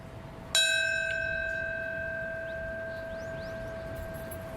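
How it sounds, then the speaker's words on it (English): A single bell struck once at a 9/11 anniversary memorial ceremony, a clear ringing tone that hangs and slowly decays in near silence, with faint distant chirps behind it. "Then a bell, marking the minute the first plane struck the World Trade Center."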